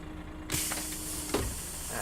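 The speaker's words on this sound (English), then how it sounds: "It's really good, isn't it? The engine sounds on this bus." A bus engine in the video game OMSI 2 idles with a low hum, then a sharp air-brake hiss bursts out, followed by another shorter hiss.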